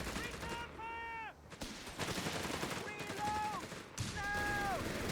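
Heavy machine gun bursts in the strategy game Company of Heroes 3, rattling in repeated volleys at moderate distance amid a busy battle soundscape, with short whistling and tonal game effects layered over the gunfire.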